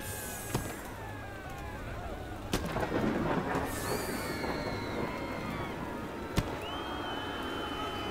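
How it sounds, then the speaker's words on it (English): Thunderstorm in the theme-park building game Parkitect, with sharp lightning cracks at scattered moments over a steady rain-like hiss and rumble, while someone talks throughout. "Mars attacks got struck by lightning."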